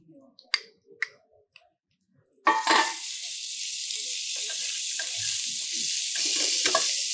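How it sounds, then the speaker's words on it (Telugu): Ginger garlic paste hits a hot pan with garam masala for chicken kofta curry, bursting into a loud, continuous sizzle after a few light clicks and taps, frying steadily up close. "సో గరం మసాలా రెడీ అయిన తర్వాత ఇందులో మనం కొద్దిగా అల్లం వెల్లుల్లి పేస్ట్ వేసుకుందామండి"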